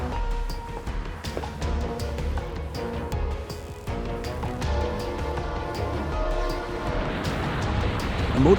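A train approaching a high bridge in northern Canada sounds its horn in long, loud, sustained blasts over a steady rumbling rail background that builds toward the end.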